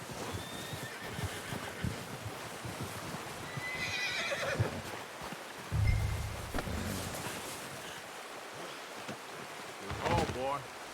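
A horse in the Red Dead Redemption 2 video game whinnies once over game ambience with wind, hoof clops and brief speech, and a second shorter whinny follows near the end.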